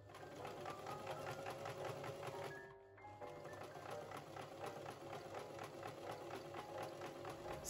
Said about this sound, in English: I'm just going to sew the darts up on the bodice.